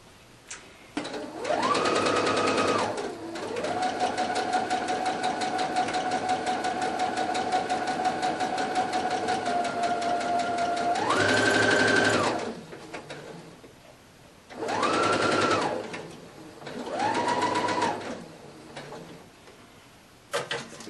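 A sewing machine stitching a thrifted shirt being remade into a dress, running in bursts: a short run, a long steady stretch, then three shorter runs with pauses between, close and clear, with no talking.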